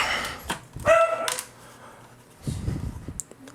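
Dogs barking in short bursts at a distance, a couple of loud yips and whimpers separated by quiet gaps, with no talking over them.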